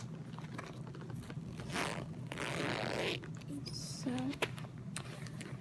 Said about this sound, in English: I should do zipper sounds.